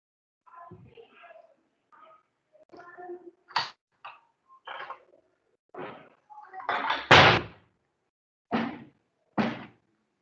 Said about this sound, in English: Wait 1 second, I'll just close the door.